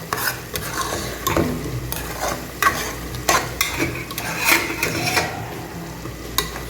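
Mutton gravy sizzling and bubbling in a pan while a spoon stirs it, with repeated scraping strokes against the metal that sound close and fairly loud, and no talking.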